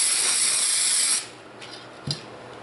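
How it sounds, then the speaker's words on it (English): A loud, close aerosol quick release spray hisses steadily for about a second onto combined precious-metal ore sponges, then cuts off, followed by a couple of faint clicks. "we're going to spray some quick release in this"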